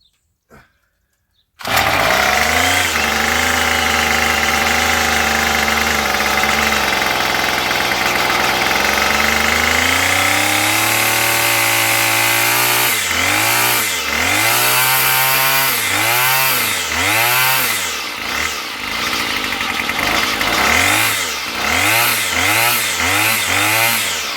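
A Murray 25cc small two-stroke engine starts after a carburetor swap. It is a brief pull, then it fires and drones loudly at a steady pitch, then revs rise and fall repeatedly in rough surges, close up throughout.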